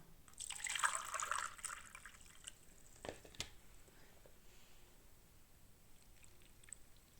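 Water poured over a potted orchid trickles and drips through the bark substrate, a soft splashing burst early on followed by a couple of sharp drips and a quiet fading trickle.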